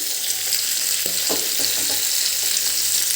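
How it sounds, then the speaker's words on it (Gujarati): Chopped tomatoes sautéing over a medium flame in a pan for farari chili paneer, a steady close sizzle and crackle throughout with a few soft stirring knocks, no voices. "હવે એને પણ આપણે ત્રણથી ચાર મિનિટ માટે સાંતળીશું"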